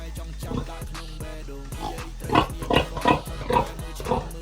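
Pigs at a family home in Battambang, Cambodia, grunt in a rapid series of short, close oinks, getting busier and louder in the second half over a steady low hum.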